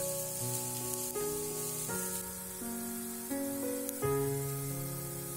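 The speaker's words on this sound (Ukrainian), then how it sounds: "Висипаємо дрібно нарізану цибулю та обсмажуємо декілька хвилин до золотистого кольору." Chopped onion sizzles softly in hot oil in a pan, a steady crackling hiss heard beneath calm background music.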